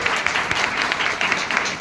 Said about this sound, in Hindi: जोड़ा तालियां होनी चाहिए।